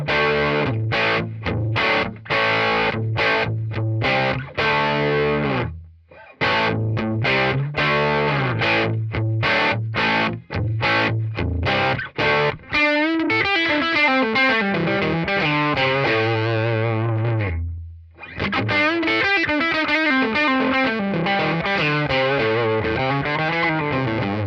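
Electric guitar runs through a Tonex One amp modeler pedal, a distorted, driven tone with riffing chords and single-note lines, two short pauses between phrases, loud and close with no talking.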